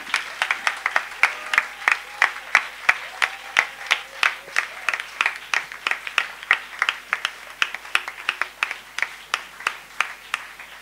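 A church congregation claps in acclamation during worship, a steady rhythmic beat of many hands in unison, evenly spaced and strong, running continuously without voices over it.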